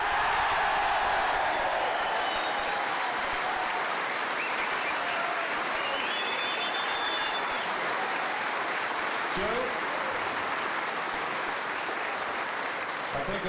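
Sustained loud applause from a large audience after the 1986 snooker world championship final, continuous and dense throughout, with crowd noise underneath.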